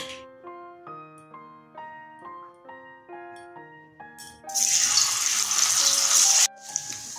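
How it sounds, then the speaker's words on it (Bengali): Paneer pieces drop into hot oil and break into a loud, steady crackling sizzle lasting about two seconds. Light plucked music plays before it. "এখানে তেলটা গরম হয়ে গেছে, আমি একটু হালকা করে পনিরগুলো ভেজে নেব।"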